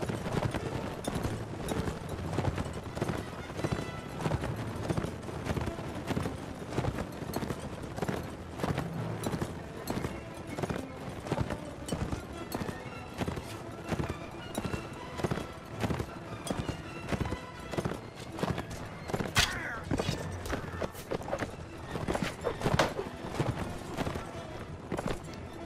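Horse hooves galloping in Mount & Blade: Warband, a steady rhythmic clip-clop pounding along close and loud for the whole stretch, with occasional whinnies and brief battle noises on top.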